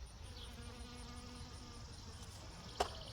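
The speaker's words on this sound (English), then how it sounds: "Look, another bee." Insect buzzing from a bee in a vegetable garden overgrown with kale, a faint steady drone running throughout with a brief louder burst near the end.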